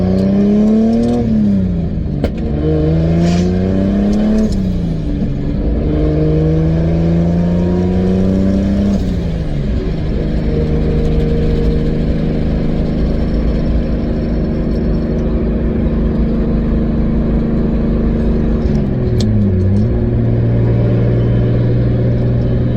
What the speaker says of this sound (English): we're gonna get on the main road and kind of just put on fourth gear and try to cruise